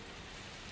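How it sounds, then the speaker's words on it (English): Steady rain falls in a dense, even hiss of countless drops, soft and continuous with no distinct individual impacts, forming a dark ambient wash. "The rain is your constant companion,"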